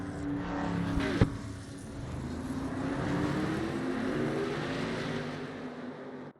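Engines of a pack of race cars roar together in a sim racing game at the race start, a dense, steady mechanical drone with a brief sharp click near the beginning.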